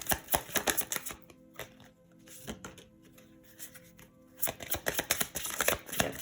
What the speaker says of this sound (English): Very messy shuffling